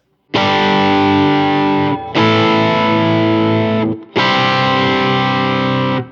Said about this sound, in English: the distortion, the dirt, the grunge of it even, has more power when the guitar is perfectly in tune